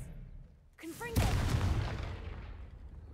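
Confringo explosion spell cast in Hogwarts Legacy: a sudden booming blast that rolls out and fades over a couple of seconds, just after a short voiced shout.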